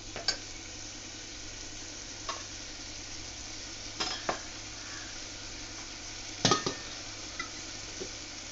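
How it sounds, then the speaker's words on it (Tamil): Spices for saalna frying quietly in a cooker, a faint steady sizzle broken by a few sharp scrapes and clinks of a spoon against the metal. "இது போட்டு ஒரு 1 மினிட் ஃப்ரை பண்ணிட்டு"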